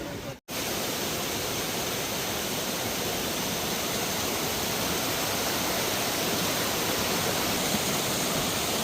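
A mountain stream rushes along a ravine in Kishtwar, feeding a water mill, making a steady, dense, unbroken roar of flowing water that fills the whole span with no voices.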